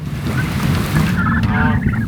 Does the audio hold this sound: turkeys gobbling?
yes